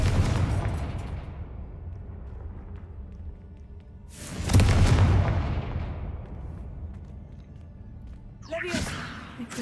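A Confringo fire spell explodes in Hogwarts Legacy, a loud booming burst that rolls off over a couple of seconds, with other whooshing bursts and game noise around it.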